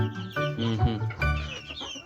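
Farm chickens cluck and chatter close by as they return to their coop after rain, with a string of short, overlapping clucks and calls that fill the moment with no talking.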